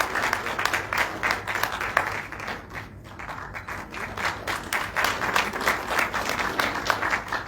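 A satsang audience at a devotional gathering in Ghaziabad breaks into loud, sustained applause: a dense wash of many hands clapping, dipping briefly midway before swelling again.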